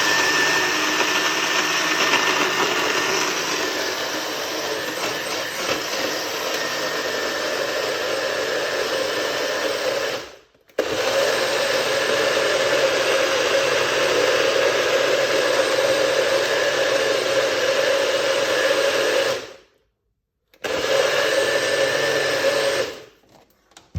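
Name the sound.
blender blending a drink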